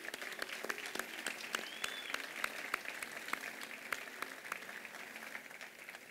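Steady applause from a festival audience at the proclamation of the queen and court of the 2024 Festes Majors in Sant Rafael del Riu, sounding as dense, even clapping at moderate distance through the whole stretch.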